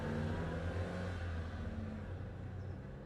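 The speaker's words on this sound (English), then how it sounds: "I've added just a car passing just for a bit of interest." A car passes at moderate distance, a low rumbling engine swell that fades gradually, added as a sound effect under a music video scene with a plastic bag drifting.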